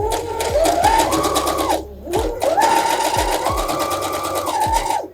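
A home sewing machine stitches thin, delicate face-mask fabric in two close bursts of rapid, whirring needle clatter, with a short pause between them and clicks as it starts and stops.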